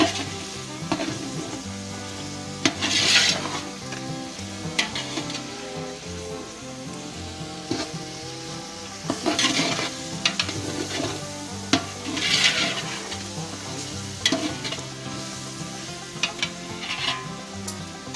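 Masala frying and being stirred in a pot for beef Kabuli pulao makes a close, continuous sizzle. Regular scraping strokes and clatters from the stirring break through it, and nobody speaks.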